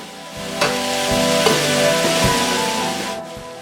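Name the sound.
vegetables sizzling and frying in oil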